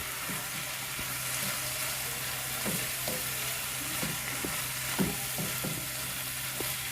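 Food sizzles steadily in a frying pan as a utensil stirs it, giving scattered scraping taps and knocks over the frying, with a low hum underneath and no speech.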